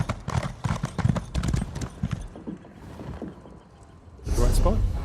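Horse hooves clip-clop in a quick, rhythmic run of sharp beats in Elder Scrolls Online, in the city of Elden Root. A louder clatter follows near the end.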